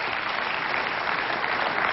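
Audience applause fills the whole stretch, a dense, steady clatter of many hands clapping at an even, sustained loudness with no voices over it.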